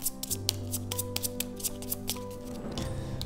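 Quiet, close shuffling of cards from the Imperium: Antiquity board game, a series of soft rapid flicks and riffles with low steady hum underneath.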